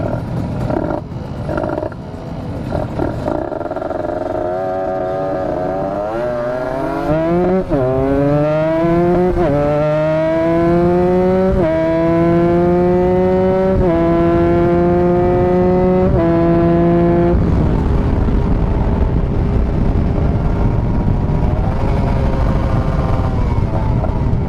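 A Kawasaki Ninja RR motorcycle engine idles roughly at a red light in Jakarta, then revs hard through rising pitch several times before dropping back to a steady loud rumble.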